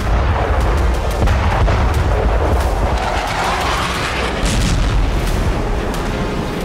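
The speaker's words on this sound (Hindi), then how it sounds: "पुतिन की सेना हर फ्रंट पर भीषण विस्फोट कर रही है।" Continuous heavy rumbling blasts and booms of Russian artillery fire in Ukraine, dense and sustained, with sharp cracks layered over a roaring low-end throughout.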